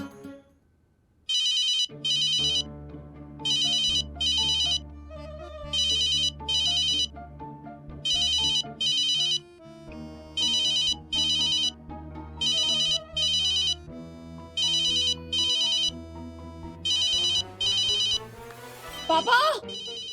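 A mobile phone ringtone plays a repeating electronic melody in regular bursts, ringing on and on at moderate volume with quiet room sound between phrases.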